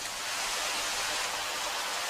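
Steady heavy rain falls in a dense, even hiss that stays loud and unbroken throughout, with no voices.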